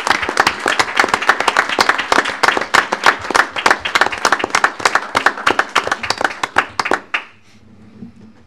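A room at a county board budget meeting applauds a newly introduced board member, loud dense handclapping in a steady burst for about seven seconds before stopping abruptly, leaving a quiet room.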